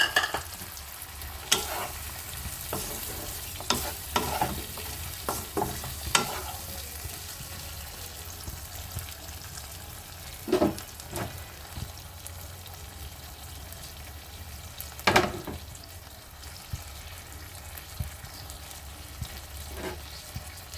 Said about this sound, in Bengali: আমি সজনে ডাঁটাগুলো নিয়েছিলাম, ওগুলো ভাজবো না দেখে একেবারে মশলার সাথে কষিয়ে দেবো